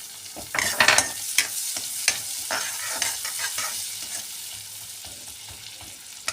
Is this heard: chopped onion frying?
yes